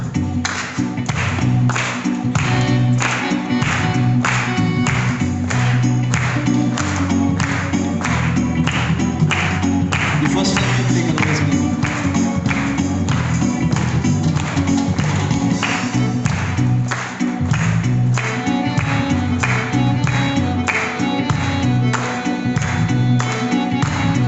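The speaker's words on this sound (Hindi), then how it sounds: "ताली बजा के" A church congregation at a Christmas worship service in Dehradun claps along in steady rhythm to a loud, full song, the beats running continuously under the music throughout.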